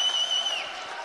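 Spectators at the Far Eastern Federal District table tennis championship rise and applaud the new champion, Vasily Rumyantsev, a brief steady wash of clapping and crowd noise at moderate level.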